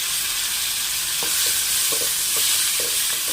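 Two chopped medium tomatoes sautéing with ginger garlic paste in a hot pan, giving a loud continuous sizzle with a few soft stirring knocks near the end.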